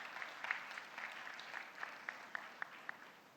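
A conference audience giving a round of applause for people working in PR, faint scattered clapping from a distance with a few sharper individual claps, thinning out toward the end.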